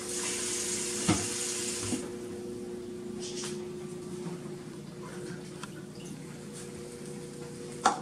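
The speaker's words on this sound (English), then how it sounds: "I gotta add a little water in here." Tap water runs steadily into a pot of custard during dessert making, a soft continuous hiss of flowing water up close, with a couple of faint knocks and clicks and no talking.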